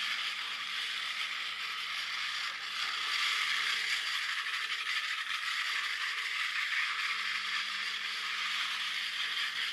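The small electric motor of a miniature electric train set running steadily after cleaning, giving a continuous, faint, mechanical whirring rattle throughout with no talking.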